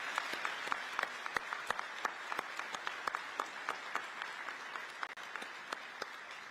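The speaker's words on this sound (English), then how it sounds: "Would you join me in an applause for Chief Flosi?" Applause at a military ceremony, an Air Force assumption of responsibility event: an audience claps steadily for about six seconds with sharp individual claps standing out. It is moderately distant and even, with no voices over it.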